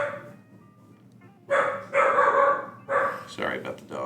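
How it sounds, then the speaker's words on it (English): A dog barks repeatedly nearby in a home while someone commentates a Big Splash League match, several loud sharp barks in quick bursts over a muffled background voice. "Sorry about the dog."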